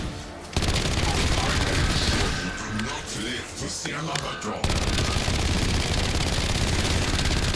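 Sustained gunfire in Black Ops 7, shooting at the Uber Klaus boss's back with game sound effects and music filling the mix, briefly dipping mid-clip before resuming loud and continuous.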